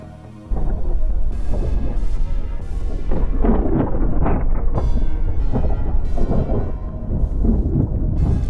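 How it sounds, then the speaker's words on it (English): Deep synthetic thunder made with the Serum synthesizer rumbles loudly with repeated crackling rolls and booms, sustained and heavy throughout, with no voices. "I will show you how you can recreate the sound of the thunder"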